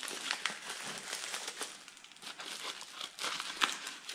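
Taped package wrapping is worked open with scissors, giving a steady run of close crinkling, rustling and snipping with occasional sharper tears, with no voices.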